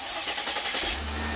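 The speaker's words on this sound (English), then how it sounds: "then start the engine up" A car engine cranks briefly and catches, settling into a low steady idle near the end, close and fairly quiet, with no talking.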